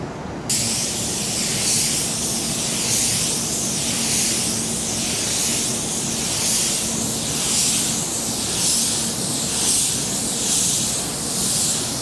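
Eastwood Elite paint spray gun laying pearl coat on a car, a loud steady pressurized hiss that swells and eases in regular passes, continuous and alone.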